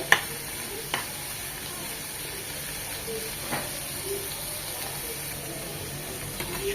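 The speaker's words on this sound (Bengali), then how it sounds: "এখন এই সব কিছু ভাজা ভাজা করে নেব" Onions and green chillies fry in a pan for a fish bharta, a steady soft sizzle with a few brief stirring scrapes and clinks, fairly quiet and close, with no talking.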